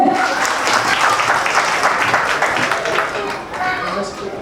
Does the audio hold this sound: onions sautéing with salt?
no